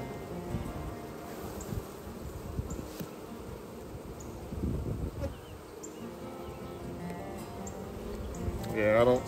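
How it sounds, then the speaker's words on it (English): A continuous low buzzing of a honeybee swarm hums throughout, with faint rustling and occasional louder passes near the end. "looks like we do have the swarm"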